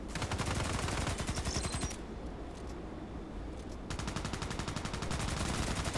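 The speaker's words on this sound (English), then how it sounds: "Let's stick to automatic fire." Rapid automatic fire from an OTs-33 Pernach pistol in the Contract Wars video game, a loud continuous burst of close gunshots that pauses for about two seconds before another sustained burst.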